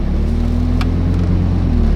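A Lamborghini runs in a parking spot with a steady, close, low engine drone and rumble that holds throughout, with no talk.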